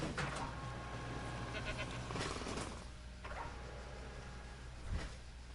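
A goat bleats in Jurassic World Evolution 2, a few wavering animal calls over a low game hum, with a sharper bleat near the end.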